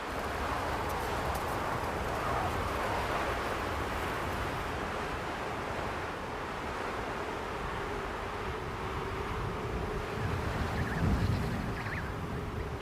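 Strong wind of about 100 km/h roars continuously outdoors in Antarctica, a broad rushing noise that stays fairly constant, with faint gusty swells throughout.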